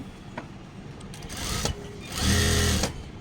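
Sewing machine stitching a chudithar top, a soft whir that swells into a louder, steady run of rapid needle strokes up close, with no talking.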